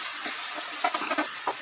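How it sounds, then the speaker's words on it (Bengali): Chopped onions and mushrooms fry over medium heat in a pan for white sauce pasta, with a steady broadband sizzle and a few soft stirring scrapes and clicks near the end. "পেঁয়াজ আর মাশরুমটা আমি 2 থেকে 3 মিনিট মাঝারি আঁচে ফ্রাই করব।"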